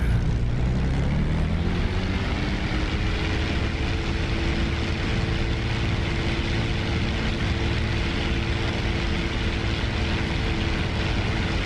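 P-51 Mustang piston engine in the DCS flight simulator running steadily during a magneto check, a continuous loud propeller drone with a slight pitch shift near the start.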